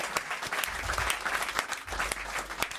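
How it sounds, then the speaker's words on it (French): Studio audience applause closing a French comedy show, a steady dense wash of clapping with a few sharper claps standing out, running evenly throughout. "Allez, on vous applaudit"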